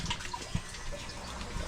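Tap water runs into a container during a kitchen cleanup, giving a soft, continuous splashing and trickling with a few drips, close by, with no voices.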